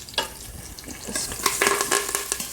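Potato curry with red chili powder and curry leaves is stirred in an Instant Pot on saute mode, giving soft sizzling and irregular scraping stir strokes, close and fairly quiet, with no talking.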